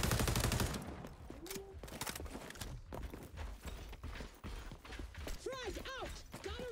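Gunfire in the shooter game XDefiant: rapid automatic bursts and sharp shots, loudest at the start, then scattered fire mixed with mechanical clicks and game effects at a moderate level.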